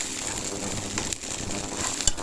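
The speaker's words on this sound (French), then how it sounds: "on va faire revenir les brocolis" Broccoli sautéing in a hot pan gives a steady, soft sizzle with faint crackles and a brief clink of a utensil near the end, with no talking.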